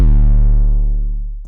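A single heavy synth bass note, rich and buzzy, booming loudly and slowly fading as its brightness dies away.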